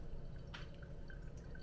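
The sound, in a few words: water dripping through Kenyan coffee grounds in a Hario V60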